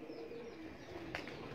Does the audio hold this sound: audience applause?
no